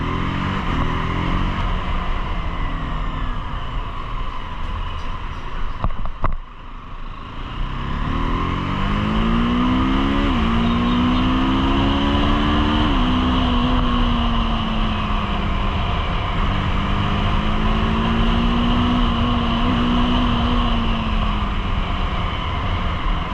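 A TVS Apache RTR 310 motorcycle pulls hard in third gear, its engine note loud and close, climbing steadily in pitch with a brief dip as the throttle eases before rising again.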